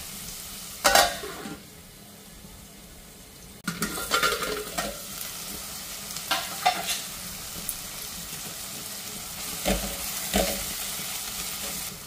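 Chopped onion and tomato with a little salt and turmeric sauté in a pan, a soft sizzle running throughout while a spoon scrapes and stirs in several bursts, close by and with no voices.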